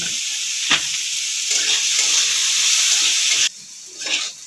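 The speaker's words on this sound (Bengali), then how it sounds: "1 থেকে 2 মিনিট গাজরটা আগে ভেজে নেব" Carrots frying in a pan with a touch of salt, a steady close sizzle with brief stirring scrapes, cutting out sharply near the end before a short burst returns.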